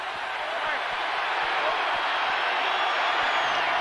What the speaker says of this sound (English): Witnessing this game, the crowd making some noise, in particular the Cougar fans.